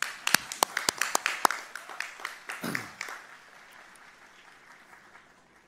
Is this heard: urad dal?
no